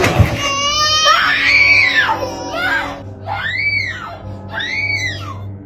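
Two children screaming in terror, three long rising-and-falling shrieks in a row with short pauses between them, loud and close, over a low steady hum.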